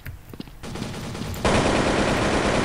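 Sustained rifle gunfire in a team hero shooter video game, rapid continuous bursts that grow louder and denser partway through, filling the scene with no speech over it.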